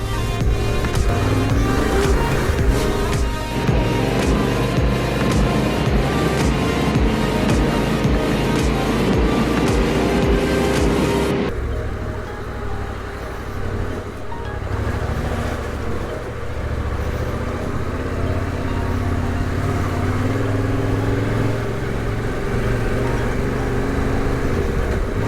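Motorcycle riding on a skiddy off-road trail, its engine droning loud and steady with rapid rhythmic pulses, then easing to a lower, quieter rumble partway through.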